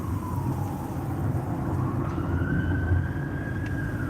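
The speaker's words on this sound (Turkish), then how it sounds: "bir yerden bir ambulans geliyor ama oradaymış karşıda" A distant ambulance siren wails and rises in pitch, faint beneath a steady rumble of engine and road noise from inside a moving car during a driving lesson.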